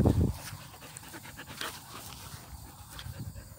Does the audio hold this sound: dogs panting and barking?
yes